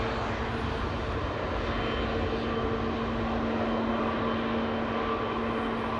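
A Cathay Pacific Airbus A350-1000 airliner, four years old, departing Amsterdam Schiphol for Hong Kong, a steady loud engine roar with a sustained tonal hum, heard from a distance without pause.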